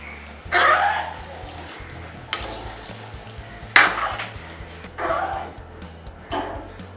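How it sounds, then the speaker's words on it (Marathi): A spoon scrapes and clatters in a pot of dry salted surmai fish curry cooked with tamarind pulp and tomato, giving several separate bursts of stirring about a second apart over a low steady hum. "मिक्स करून घेऊया"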